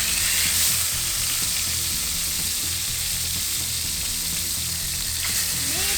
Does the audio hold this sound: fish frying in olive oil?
yes